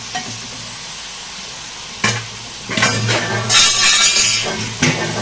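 Green chillies sizzle and fry in a pan while a spoon stirs them, with soft steady frying noise broken by scraping stirs and light clinks against the pan.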